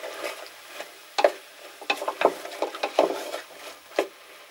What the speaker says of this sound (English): And cook until the green peppers get a little softer.